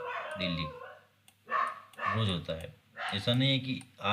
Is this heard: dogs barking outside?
yes